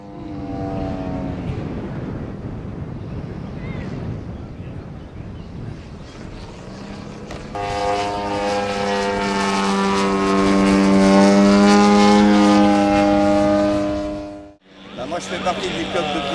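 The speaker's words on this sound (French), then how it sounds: "Le Stamp SV4, c'est un avion qui a été fabriqué au départ en Belgique et après en France." A Stamp SV4 model biplane, a 23.5 kg aerobatic replica with a 95 cc engine, flies past at a model aircraft meeting. Its buzzing propeller engine grows louder and higher in pitch as it approaches, then drops away, and a voice talks over it.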